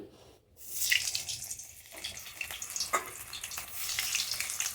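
Eggplant pieces go into hot oil in a home kitchen and start to sizzle, a soft crackling hiss that swells after a brief quiet gap, with small pops and spatters throughout.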